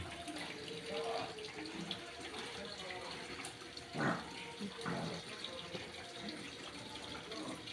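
Water drains from a faulty washing machine under repair, a faint steady rushing and trickling with a few louder gurgling splashes, while people talk quietly in the background.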